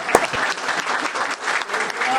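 Applause from a studio audience on a television show, a dense, steady wash of many hands clapping at moderate loudness, with a faint voice mixed in.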